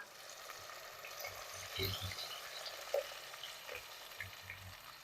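Ground masala paste sizzling as it fries in a pan for mutton curry, a soft steady crackle with faint stirring scrapes, quiet and close.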